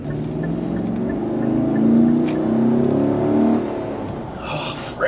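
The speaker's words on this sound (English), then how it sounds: "you hear my engine mount bang" A car engine revs up and down in a low, rough drone, with a brief knock near the end from a banging engine mount.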